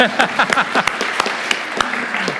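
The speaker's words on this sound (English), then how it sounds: "let's give him a round of applause." A church congregation gives a round of applause, a dense burst of many hands clapping that fills the room, with a voice briefly audible over it.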